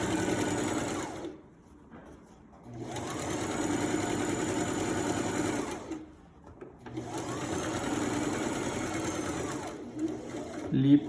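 A sewing machine stitches around a garment sleeve in two long steady runs separated by brief pauses, its rapid mechanical whir close and clear.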